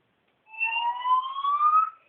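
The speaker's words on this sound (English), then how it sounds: "Well, the alarm seems to be crap." A building fire alarm sounds a single steady electronic tone lasting about a second and a half, loud and alone before an evacuation announcement.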